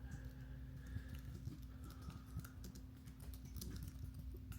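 Typing on a computer keyboard, a run of quick, quiet key taps in an irregular rhythm, close up and alone without talk.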